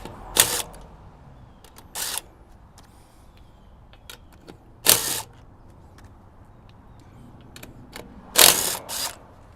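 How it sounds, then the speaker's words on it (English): DeWalt impact wrench taking lug nuts off a Jeep Renegade wheel during a snow tire change: several short, loud, buzzing bursts spaced apart, with faint clicks and quiet gaps between them. "we'll go ahead and take our DeWalt impact here. This makes life so much easier. Pop these guys off."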